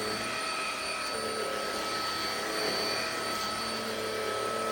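A Mova J20 cordless handheld vacuum cleaner runs at a steady, even whine with a constant airy rush, close and uninterrupted throughout.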